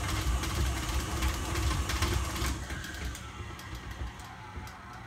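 Food processor churning a thick vegan burger mixture, a steady mechanical whir with dense low thumping as the mass slaps against the bowl sides, loud and continuous throughout.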